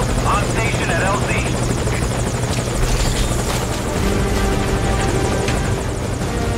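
A helicopter touches down at a landing zone in the video game Metal Gear Solid V: Ground Zeroes, its loud, steady rotor thrum and engine whine filling the whole stretch while a voice speaks faintly beneath.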